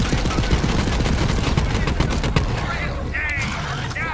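Rapid gunfire from a Borderlands 3 shooter match, dense bursts of close, loud automatic shots rattling continuously before thinning out, with a few electronic chirps near the end.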